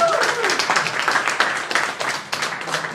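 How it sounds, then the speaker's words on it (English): Comedy club audience giving a round of applause during crowdwork at a stand-up show, a dense, sustained wash of clapping from a nearby crowd lasting throughout, with some scattered voices mixed in. "Well, another round of applause for that."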